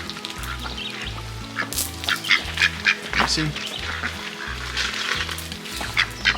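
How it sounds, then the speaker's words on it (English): Pet ducks quack in short repeated bursts while being fed a snack outdoors, fairly close and loud over a steady low engine-like hum, with a person briefly speaking. "We got our ducks, and Jase is going to go ahead and give them a quack snack."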